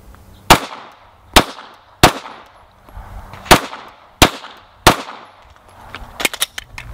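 Pistol shots fired during a shooting drill on a range, eight or so sharp loud cracks spaced about a second apart, then a quicker cluster of shots at the end, with no talking.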